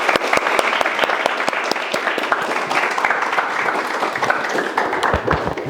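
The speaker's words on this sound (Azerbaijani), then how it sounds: "gəlin bir dənə alqışlayaq" An audience at a business talk applauds in sustained, dense clapping, loud and continuous, with a few distinct individual claps standing out near the end.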